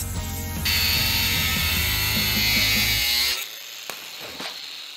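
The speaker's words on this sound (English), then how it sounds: "let's score it with a grinder" An angle grinder scores glass on a rustic sliding barn door project, giving a loud, steady high-pitched whine with a gritty edge for about three seconds before it cuts off and a few faint knocks follow.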